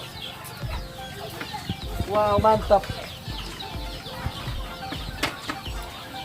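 Free-range village chickens cluck and squawk around a farm, with brief wing flapping, a burst of louder clucking in the middle, and people talking briefly over the birds.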